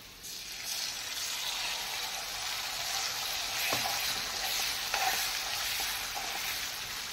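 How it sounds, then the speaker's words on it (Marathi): Marinated kaleji (liver) being sautéed in spiced oil over a low flame, a soft, continuous sizzle with occasional stirring taps and a few brief pops. "गॅसचा फ्लेम कमीच ठेवायचा आणि कलेजी तेलावर छान परतून घ्यायची।"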